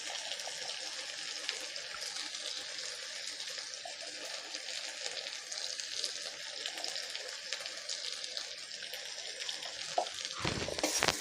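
Turmeric and chilli spice paste sizzles steadily in hot oil for a prawn malai curry, a continuous close hiss with a brief clatter near the end.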